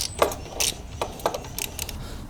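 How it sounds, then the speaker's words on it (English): A Torx 45 driver backs a bolt out of a Norden 901 motorcycle during a centerstand install, giving a few scattered metallic clicks and ratcheting ticks, close and fairly quiet. "Torx 45 right here, and just take the bolt out."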